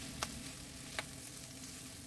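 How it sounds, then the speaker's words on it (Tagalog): Shredded boiled chicken and softened onions saute in a pan for Filipino chicken noodle soup, giving a steady low sizzle with two faint clicks of a utensil, quiet and close, no voices. "Igisa ito ng 3 hanggang 5 minuto."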